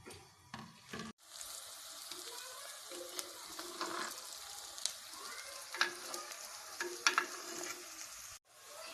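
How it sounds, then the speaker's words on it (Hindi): Onions browning in about half a cup of cooking oil, a steady close sizzle with occasional crackles and stirring scrapes, moderately quiet and without talk. "ये आधा कप ऑयल है, कुकिंग ऑयल, वो शामिल करेंगे और इस तरह से हम प्याज को ब्राउन कर लेंगे"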